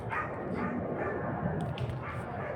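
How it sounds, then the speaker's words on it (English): A dog barks somewhere in the background, partly buried under a steady low rumble of engine-like noise. "You can hear Elvis barking in the background."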